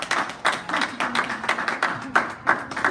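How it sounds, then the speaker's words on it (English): Parents at a children's martial arts black belt ceremony give a round of applause, a short burst of clapping from a small group in a room, fairly loud and close, fading slightly as it goes. "All right, parents, let's give them a round of applause."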